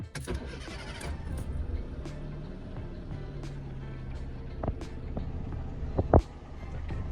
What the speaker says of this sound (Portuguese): partida do carro